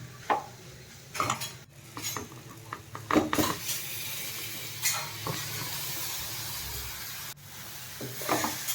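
Paneer bhurji with tandoori masala is stirred in a pan, with intermittent spoon scrapes and clinks over a faint, soft sizzle.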